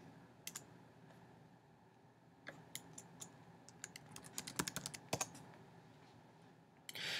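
Keys on a computer keyboard are tapped to enter a short search, quiet and close. A few isolated clicks come first, then a quicker run of keystrokes, with no talking.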